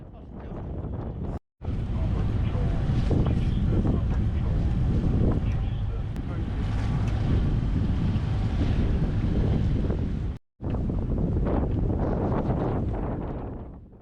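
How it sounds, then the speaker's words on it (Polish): Strong wind on a sailboat on the Solent buffets the microphone in a loud, continuous roar, broken by two brief dropouts, with water rushing underneath. "Solent znów stał się nieco wietrzny."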